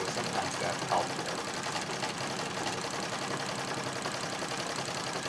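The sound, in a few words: Singer 66 treadle sewing machine free-motion quilting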